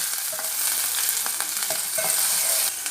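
Tempering sizzles steadily and close in hot oil as asafoetida, curry leaves and onion go into the pan for a Dasara festival dish, with stirring scrapes throughout and no talking.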